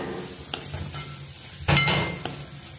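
Chopped onion sautés in a pan for pav bhaji, a low steady sizzle broken by a few sharp spoon scrapes and clinks against the metal, one louder stir near the middle.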